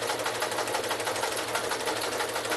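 An older sewing machine runs a straight seam, giving a steady, fast mechanical whir and rhythmic needle chatter, close and continuous with no talking.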